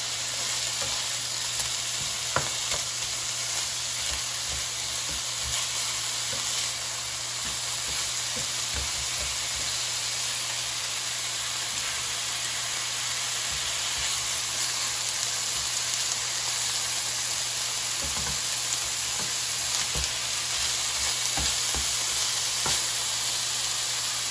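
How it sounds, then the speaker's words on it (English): Steady sizzling of ground beef frying in a hot pan, with occasional pops and scraping stirs over the constant crackle. "So if you can hear, now the pan is heating up."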